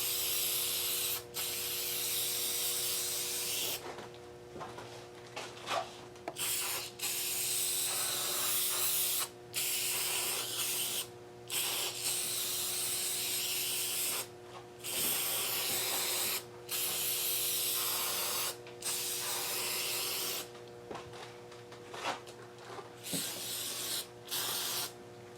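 Spray sealant hisses from an aerosol can onto an acrylic pour painting in repeated bursts, each a few seconds long and separated by short silent pauses, close and fairly loud.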